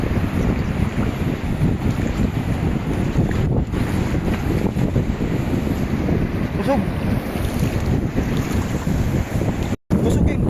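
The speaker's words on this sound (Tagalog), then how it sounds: "Kusog yung balod, so wala man ko'y shoreline." Strong sea waves wash steadily at a beach in Carcar City, Cebu, Philippines, a loud continuous roar of surf mixed with heavy wind buffeting the microphone, with no clear pauses.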